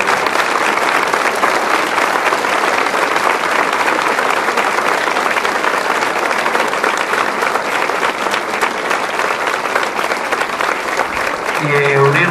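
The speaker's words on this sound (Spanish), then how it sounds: "a quien entonces lo recibimos con un fuerte aplauso" A parish school gathering bursts into loud, sustained applause to welcome a returning community member, a thick wall of clapping from a large crowd that carries on for over ten seconds without letting up.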